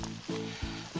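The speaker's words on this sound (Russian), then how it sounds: "Ну вот наше мясо кипит ключом" Meat boiling vigorously in water in a pot on the stove for rassolnik soup, a steady close bubbling and seething with a few louder surges.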